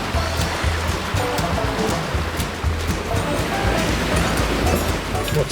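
Nicholson River water rushing and gurgling during a four-wheel-drive river crossing on a rain-soaked high country track, a steady, loud wash of flowing water with a low rumbling undertone throughout.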